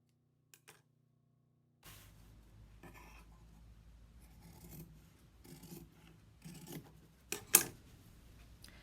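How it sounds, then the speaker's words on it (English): Fabric for a lampshade is trimmed close to a sewn stitch, giving quiet, intermittent snipping and rasping cuts after a near-silent start, growing slightly louder toward the end. "I'm trimming this as closely as I can to that stitch without cutting into the stitch."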